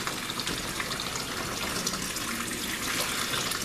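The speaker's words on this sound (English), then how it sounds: "I'm just going to rinse all that soap out" Tap water runs steadily as soap is rinsed out of natural brown fiber, a continuous close gushing splash that goes on throughout with no talk.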